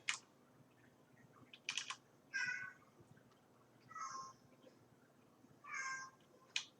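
A cat meows several times nearby at a computer desk, short, clear calls spaced a second or two apart, with quiet keyboard typing and clicks between them.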